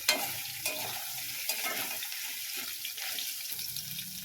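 Okra (bhindi) frying in hot mustard oil in a pan, a soft continuous sizzle with repeated scraping stirs and clinks of a spatula, close and fairly quiet with no talk.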